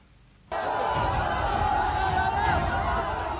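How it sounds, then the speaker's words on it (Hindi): Crowd at Prashant Kishor's Jan Suraaj political rally in Bihar, a dense roar of chatter and cheering that swells in abruptly and stays loud. "जनसुराज वाले प्रशांत किशोर की रैली में ऐसी भीड़ उमड़ी है"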